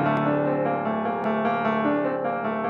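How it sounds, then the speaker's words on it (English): A dark, simple piano pattern from the Analog Lab 5 American Jazz Studio preset plays alone, sustained and mellow at moderate level, with low end cut and vintage reverb and echo delay added. "I have laid down this simple piano pattern that sounds like this"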